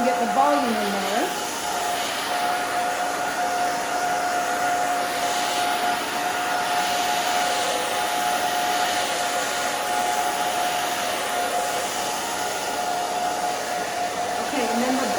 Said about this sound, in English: we're going to dry against the way that she's going so we can get the volume in there